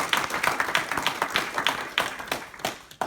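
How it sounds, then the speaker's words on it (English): An audience at the London Buddhist Vihara gives a keynote speaker a round of applause: distinct, fairly sparse claps at close range that continue steadily for a few seconds. "I think Mr. Sugeeshwara Gunaratna deserves a second round of applause."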